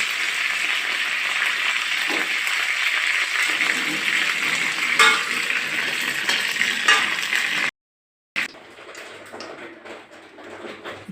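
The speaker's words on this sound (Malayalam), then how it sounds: "ഇത്തിരി വേപ്പിലൊന്ന് വറുത്ത് കോരിയെടുക്കണം" Curry leaves fry in hot oil in a cheenachatti wok, a bright, steady sizzling hiss with occasional stirring, breaking off briefly before resuming.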